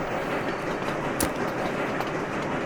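Continuous rumble and rhythmic clatter of a train running in the video game Sweet Transit, steady and fairly loud throughout, with one brief sharper click in the middle and no talking.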